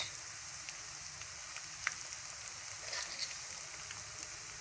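Whole dried chillies hit hot oil with softened onions, giving a soft, steady sizzle with scattered faint crackles and pops, quiet and close, with no talking.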